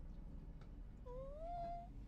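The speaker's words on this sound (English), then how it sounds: "Those are kitties" A single faint cat meow rises and then levels off, sounding soft and somewhat distant over a steady low background hum. No one speaks.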